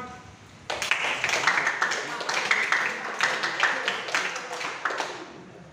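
A Scout group performing the tepuk hantu clapping routine, bursts of sharp rhythmic claps from many hands starting abruptly and continuing in a patterned beat, mixed with voices.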